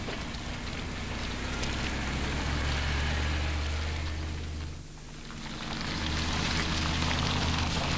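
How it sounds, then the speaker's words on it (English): A Land Rover 90 climbs a mild undulating off-road track in second gear, with a steady low engine drone under broad rushing noise, dipping briefly midway before resuming. "Here we see the 90 driving up a mild undulating track using second gear with lots of control."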